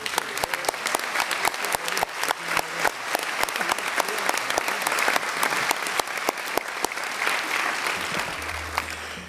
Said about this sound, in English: please join me now in showing our appreciation for the commitments and achievements of all of these 28 states with a warm round of applause